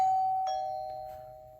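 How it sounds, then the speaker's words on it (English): A Wyze Video Doorbell V2 sounds its chime at the press of the button, one clean electronic ding then a second tone, ringing out and fading alone. "there's nothing else I can think to really show you besides when you click the doorbell"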